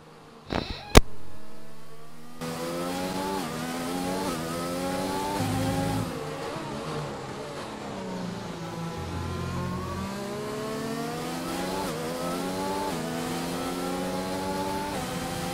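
A race car engine revs hard as it leaves the pits in a racing game at the Brazilian Grand Prix. A sharp bang opens it, then a loud, steady engine note climbs and shifts through the gears, running alone throughout.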